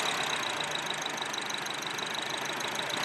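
A 2004 Acura engine with misfires on cylinders one through four idles steadily in a continuous mechanical hum with a fine rhythmic ticking and a high whine, heard up close and fairly faint, with no talking.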